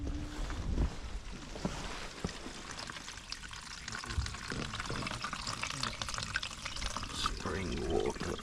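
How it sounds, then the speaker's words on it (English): Spring water running from a roadside spring, a steady close splashing and gurgling stream with faint rumble beneath, no one speaking. "Spring water."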